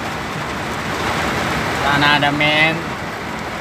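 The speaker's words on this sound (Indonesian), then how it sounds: "tidak bisa bekerja ini karena hujan deras ya" Heavy storm rain pours down at a mine site, a loud, dense hiss drumming steadily throughout, with someone speaking briefly over it near the middle.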